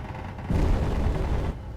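Space Engineers gunfire rumbles as a dense, low booming burst of turret shots lasting about a second, fairly loud and steady before dropping back to background hum.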